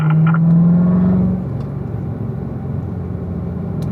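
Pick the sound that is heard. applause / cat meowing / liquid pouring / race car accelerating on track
race car accelerating on track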